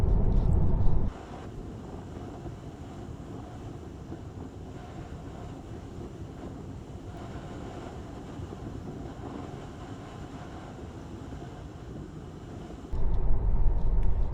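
Tesla Model 3 electric car cruising a Highland road, a low steady rumble of tyre and wind noise heard from inside the cabin, with louder bumps at the start and end.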